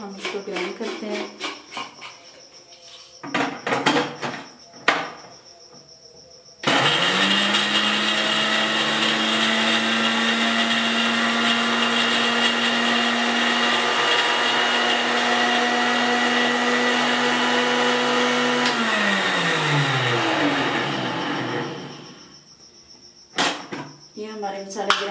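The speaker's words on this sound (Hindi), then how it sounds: "ये सारे मसाले हमने इसमें डाल दिए जो हमने रोस्ट किए हैं, तो अब हम इसको ग्राइंड करते हैं" An electric grinder whirs loudly and steadily for about fourteen seconds, blending roasted biryani masala spices, then winds down; jar rattles and handling clatter come before and after the run.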